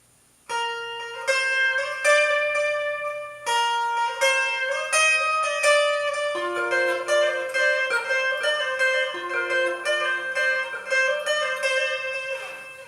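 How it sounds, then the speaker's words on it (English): An electric guitar riff played through a delay effect, so each plucked note repeats and blurs into the next, building a dense, echoing wash that stays loud and close. "Now with the delay, it'll all sound like this."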